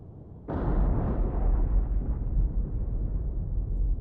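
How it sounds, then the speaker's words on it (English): Torpedo striking the cruiser Takao in War on the Sea lands as one sudden deep boom after a short lull, then a long rumbling roar that slowly fades, heavy and close with no talk. "Takao was struck by a torpedo?"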